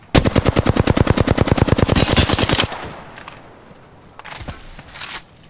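Rapid automatic gunfire in an Apex Legends ranked match: a loud, close burst of about thirty evenly spaced shots, then a few scattered distant shots.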